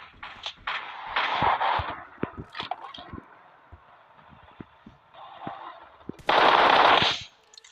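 Gunfire in a shooting video game: scattered sharp single shots and short automatic bursts, with a loud sustained burst of fire near the end over quieter background movement.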